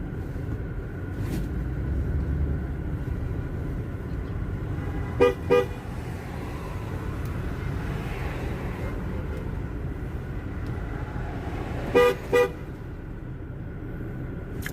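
A car horn in a moving road convoy gives two short double honks, one pair near the middle and another later, over a steady low rumble of traffic and engine noise.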